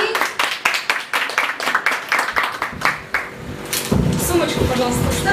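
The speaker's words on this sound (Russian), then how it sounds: "Аплодисменты ей" Wedding guests clap in a brisk, evenly paced rhythm of sharp, close hand claps, then the clapping gives way to a busier mix of crowd noise and voices toward the end.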